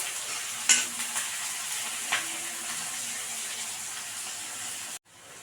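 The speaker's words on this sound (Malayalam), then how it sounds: "അതിൽ തന്നെ ഇഞ്ചിയും വെളുത്തുള്ളിയും ചതച്ചത്, 4 പച്ചമുളക് കൂടെ ഇടുകയാണ്. അതൊന്ന് ഇളക്കി യോജിപ്പിച്ച്" Crushed ginger, garlic and four green chilies frying in a pan, a continuous close sizzle with a couple of brief utensil knocks, cutting off abruptly near the end.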